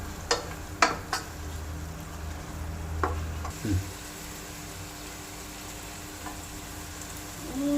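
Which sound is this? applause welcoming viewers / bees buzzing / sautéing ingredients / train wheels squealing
sautéing ingredients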